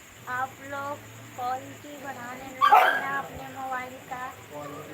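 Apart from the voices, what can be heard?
many dogs barking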